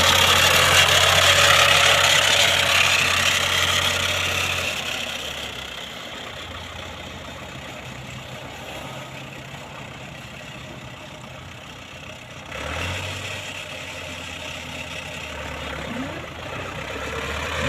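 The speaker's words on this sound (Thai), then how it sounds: "ตัวนี้เป็นเครื่องยนต์สี่สูบเครื่อง นิ่ม ๆ ครับ" A Ford 5030 tractor's four-cylinder engine idles in a steady low rumble, louder at first, then settling into a quieter even hum before rising slightly again, with no talk over it.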